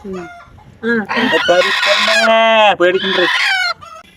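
Chickens clucking loudly and close by, with drawn-out calls that rise into a crow-like cackle, no talking.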